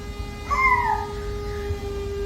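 A single cat meows once, a short drawn-out cry rising and falling, heard over a steady background hum.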